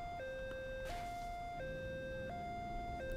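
A two-tone video game siren from Saints Row: The Third alternates slowly between a high and low pitch, steady and electronic-sounding, repeating several times.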